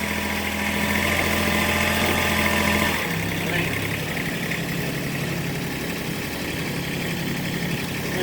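A vehicle engine idles steadily nearby with a low, even hum, shifting slightly in tone partway through as it is put into four-wheel drive, while a person speaks briefly over it.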